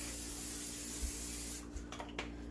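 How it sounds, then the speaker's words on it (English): A steady hiss of aerosol cooking spray onto a non-stick baking pan lasting over a second, followed by a few faint rubbing and handling sounds. "I am going to spray it with a little bit of cooking spray"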